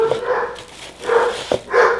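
A dog barks in a home kitchen while bread dough is being prepared, three close, loud woofs spaced evenly about half a second apart with no speech over them.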